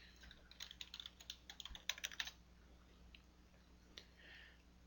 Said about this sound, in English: Type in the passcode for this guy.